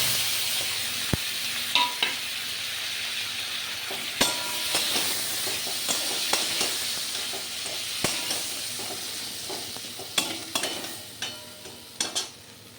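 Yogurt-marinated food frying in butter in a pan, a constant sizzle broken by sharp scrapes and taps of a stirring utensil every second or so, close and clear with no talk.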